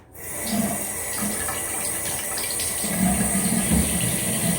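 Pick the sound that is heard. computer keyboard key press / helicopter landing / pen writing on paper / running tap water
running tap water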